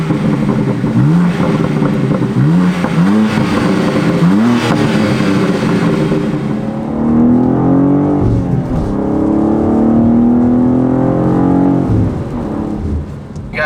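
A BMW M2 G87 in Sport Plus mode revs hard while driving, the engine climbing through several quick upshift sweeps before settling into a sustained loud, rising drone, heard alone without talk.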